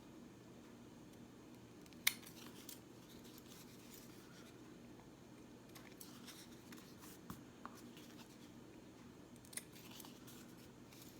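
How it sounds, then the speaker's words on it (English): Scissors trim excess material from a handmade gift tag made of recycled supplies, giving a few soft, quiet snips and faint paper rustles spread over a calm stretch. "we're going to cut off the extra."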